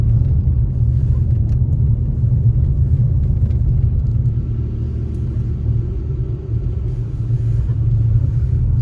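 Inside a car driving through snowy mountain roads, a steady low engine and road rumble drones continuously, deep and even, with a slight dip in the middle before settling back, and no voices.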